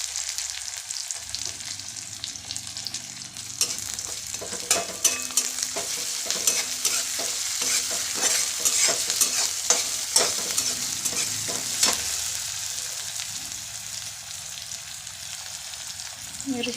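Onion, curry leaves and chilies fry in a hot pan while being stirred, giving a steady close sizzle with repeated scraping clicks of the spoon throughout.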